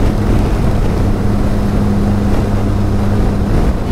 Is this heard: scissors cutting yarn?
no